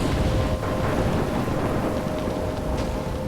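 A storm in Life Is Strange gives a steady, dense roar of heavy rain and wind, with low rumbling thunder underneath and no gaps.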